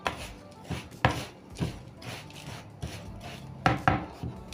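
Oatmeal banana bread batter being stirred together with salt in a bowl, giving repeated scraping, knocking strokes at a steady moderate level, close up, with no talking.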